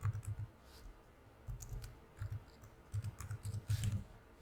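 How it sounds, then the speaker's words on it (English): Soft, close computer keyboard typing in short irregular bursts of clicking keystrokes with brief pauses between them, quiet and alone with no talking. "then I'm going to type in here FIFA 23 player"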